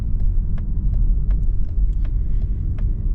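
A 2026 Mazda CX-30 or Toyota Corolla Cross driving on the road, heard from inside as a steady low rumble of road and engine noise with faint ticks and clicks scattered over it.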